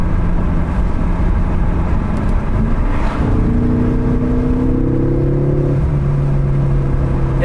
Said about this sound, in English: you get kind of a little blow off noise when you let off the gas